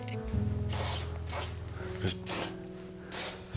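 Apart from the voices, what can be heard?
spraying One Step cleaner on bicycle parts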